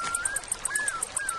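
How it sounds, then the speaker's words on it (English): Crickets chirp in quick regular pulses, a steady high trill repeating about seven times over a soft continuous background, close and unaccompanied by talk. "Thunder. Crickets. Loon calls."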